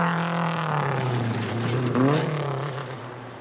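A worn rally car engine drones and strains nearby during the 1984 Rally of New Zealand, its pitch climbing and falling as it revs, with steady road noise underneath.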